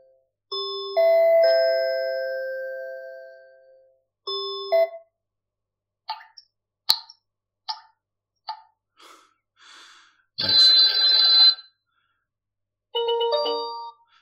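A series of electronic alert tones from a TP-Link Tapo C420S2 security camera alarm: ding-dong chimes, short chirps and beeps, then a harsh buzzing burst, each separated by silence.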